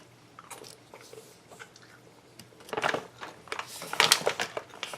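Raw, unroasted whole cashews being bitten and chewed close up, soft irregular crunching bursts that grow louder midway, with no talking.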